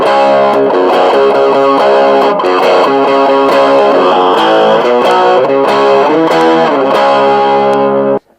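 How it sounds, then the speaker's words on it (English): A heavily distorted electric guitar plays the opening riff of a song in a retuned tuning, loud and continuous chords with rhythmic accents, ending abruptly. "And the song starts like this."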